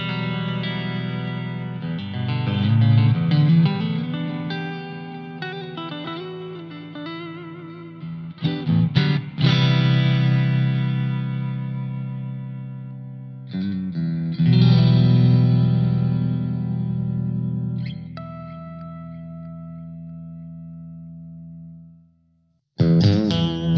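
An electric guitar played through Blackstar ID:Core V4 modelling amp presets rings out in sustained chords and riffs with distortion, chorus and echo effects, switching tones in several passages before fading to silence.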